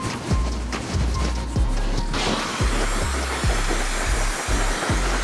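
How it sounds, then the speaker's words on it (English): Hair dryer blowing damp hair into place during a barber's taper fade, a loud steady airy whoosh that shifts in tone partway through, with repeated low thumps underneath. "I'm gonna go ahead and rub it in there really well and then blow dry it into place"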